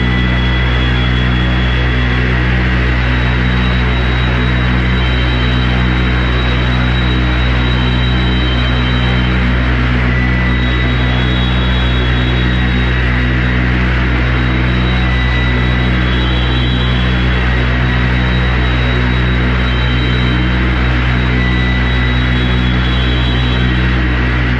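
A drone-style ambient music track, built from a steady, dense low hum and sustained tones with faint high shimmering lines, unchanging and continuous throughout, no voices.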